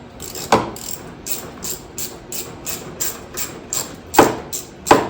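Ratcheting wrench loosening a fuel pickup line clamp on a Dodge D100 fuel tank, a quick run of close mechanical clicks with a few louder knocks.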